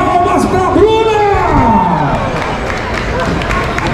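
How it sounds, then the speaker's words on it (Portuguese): Crowd cheering, whooping and clapping for an athlete named Bruna at an Arnold South America 2024 fitness challenge, a dense noisy roar with a loud voice shouting over it near the start. "Palmas pra Bruna!"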